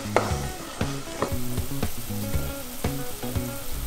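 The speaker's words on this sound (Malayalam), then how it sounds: "ഇളക്കി വെള്ളം ഒന്ന് തിളപ്പിച്ചെടുക്കണം." Water with oil, spices and pepper powder stirred in a pan while heating toward a boil for a rava snack, giving steady sizzling with a string of short scraping stir strokes and no talk.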